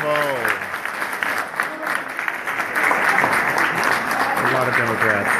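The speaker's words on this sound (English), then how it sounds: "Could you please give a round of applause?" Audience applause at a college debate between Republican and Democrat student groups fills the room, steady and dense, swelling louder toward the end while a voice talks over the start and close.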